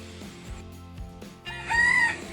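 A rooster crows once, loud and close, its call rising clearly above a low background hum and faint thumps.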